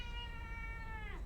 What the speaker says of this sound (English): my cat has decided to journey on the table